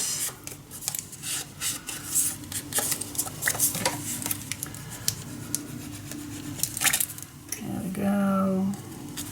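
Paper being cut by hand for a handmade mini album, a series of short crisp snips and rustles spread through the clip, with a brief voice near the end.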